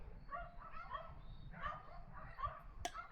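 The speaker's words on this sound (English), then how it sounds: "Don't mind the neighbor's dogs." Dogs bark in the distance, several faint yips and woofs in loose bursts over quiet background noise.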